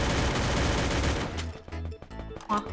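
Rapid automatic gunfire from a Free Fire shooter game, a dense burst of shots for over a second, followed by a few separate sharp shots and clicks, loud and near with no talking.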